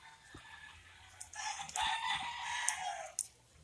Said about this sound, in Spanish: Estos son los pollos marcados 2.